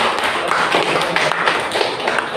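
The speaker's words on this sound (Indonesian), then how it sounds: "Tepuk tangan untuk kalian semua." Classroom clapping for students during a teaching practice session, a dense, steady patter of many hands that stays even and fairly loud for the whole stretch.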